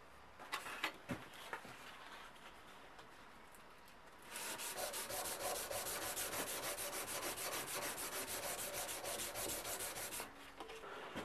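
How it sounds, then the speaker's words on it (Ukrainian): Steady, rapid scratching of 180-grit sandpaper rubbed back and forth by hand on a forged knife blade, close and continuous, after a few quieter scrapes and taps at the start. "Тепер приступаю до шліфовки вручну"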